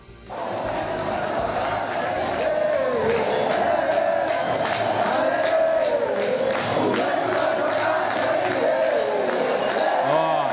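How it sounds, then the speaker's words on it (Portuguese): Juventude football fans in a stadium sing the arerê taunt in chorus, a loud sustained mass of voices chanting in steady rhythm for the full length after a brief quiet start. "é a torcida do Juventude entrando na onda, fazendo coro do arerê"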